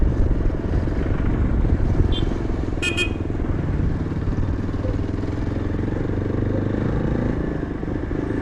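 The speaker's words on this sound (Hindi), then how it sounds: "ये हो गया शिलोंग का ट्रैफिक।" A Yezdi Adventure motorcycle rides through Shillong traffic with a continuous close engine drone and road rumble, while a couple of brief car horn toots sound near the midpoint.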